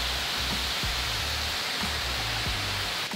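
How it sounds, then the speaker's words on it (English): Brandywine Falls in Cuyahoga Valley National Park, Ohio, gives a loud, constant, hissing roar of falling water close by, with a few soft low thumps underneath. "We at Brandywine Waterfall in Ohio."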